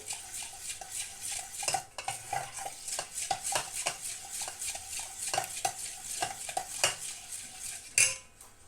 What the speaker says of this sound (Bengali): বাটারটা আমি চেঁচে দিলাম